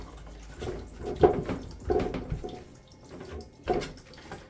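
Water drips and trickles from a removed Kinetico water softener filter cartridge, a few irregular splashes and drops close by with faint running water between them, no talking.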